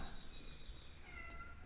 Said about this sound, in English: There is a cat here, so you're going to hear it meowing for just a little while.